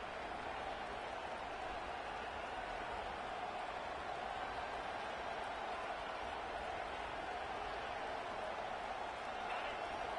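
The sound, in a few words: stadium crowd roaring at a college football game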